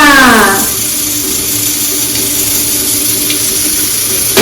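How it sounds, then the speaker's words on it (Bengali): Fuchka (puri) frying in hot oil: a loud, continuous sizzle and hiss that flares at the start and then settles into a steady bubbling crackle, with no one speaking. "এখন তোমার ফুচকাটা ভেজে নিচ্ছি জানো তো"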